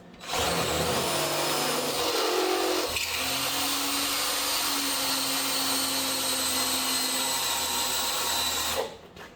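A power drill bores a 3/4 inch hole, likely in the metal body of a 1950 Mercury M47 truck, whining loudly and steadily from start to finish with a brief change in pitch partway through, and no talking.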